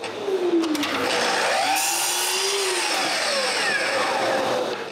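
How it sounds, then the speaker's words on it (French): A power saw cuts through plywood to make a removable laser base for a CNC machine. A loud, steady whining drone with shifting pitch sweeps runs through the whole cut without pause. "je dois couper du contreplaqué pour faire une base amovible"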